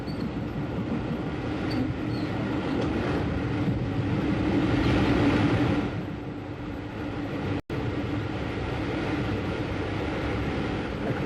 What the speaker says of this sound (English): The train crosses over one of the great engineering features of the Brighton line, the Ouse Valley Viaduct